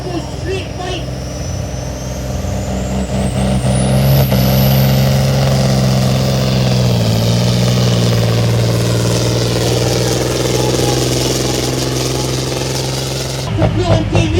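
Tractor-pull machine with a single-turbo straight engine roaring loudly and steadily as it pulls, a deep sustained drone that slowly rises in pitch, nearby and continuous, with people talking over it.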